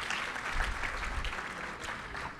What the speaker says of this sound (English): I think they deserve a hand clap